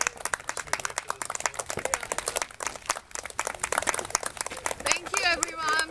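Wedding guests clap in a lively, irregular patter of many hands, fairly close, with voices joining near the end.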